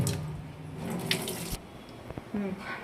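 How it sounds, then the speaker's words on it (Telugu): Raw chicken rinsed under a running kitchen tap: a steady splashing hiss of water for the first half, then quieter dishware clinks and brief splashes. "రన్నింగ్ వాటర్లో వాష్ చేయాలి"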